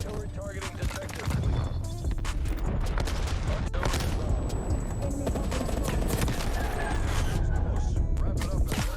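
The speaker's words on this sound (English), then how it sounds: "Artillery targeting detected." Artillery strikes in a Call of Duty multiplayer match land as a rapid string of booming explosions over gunfire and battle noise, steady and dense throughout.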